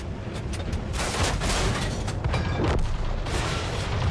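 Tank combat in World of Tanks Modern Armor from a light tank: heavy booming cannon shots and rumbling impacts layered over a constant loud engine-and-battle roar, several blasts packed into a few seconds with no speech.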